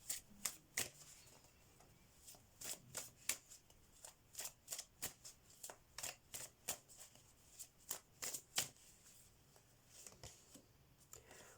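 Tarot message cards shuffled steadily, a quiet run of rapid papery riffles and flicks repeating through the whole stretch with no talk over them.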